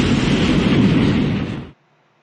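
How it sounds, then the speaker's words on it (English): A rocket ship launch effect from an English lesson for children: a loud roaring whoosh that holds steady for about a second and a half, then cuts off sharply into quiet. "Now, rocket ship will go."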